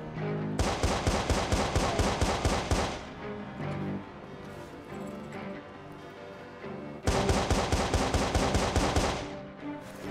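Gunfire in Watch Dogs on PS3, two loud bursts of rapid automatic shots separated by a few quieter seconds of game sound, with a voice calling out briefly.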